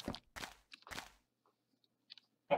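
Three crunchy bites of chicken being eaten in Minecraft, close and clear, then a quiet stretch with a couple of faint clicks near the end.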